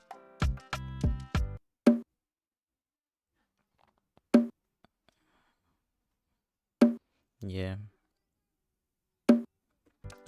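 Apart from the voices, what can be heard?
simple bongo pattern in a beat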